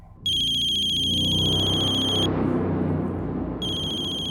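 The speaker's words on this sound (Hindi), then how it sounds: "राजकोट वाले घर की लैंडलाइन से फोन है।" A landline telephone rings loudly in a repeating electronic trill, pauses briefly, then starts again over a low rumbling background.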